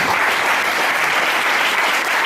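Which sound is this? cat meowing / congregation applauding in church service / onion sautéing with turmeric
congregation applauding in church service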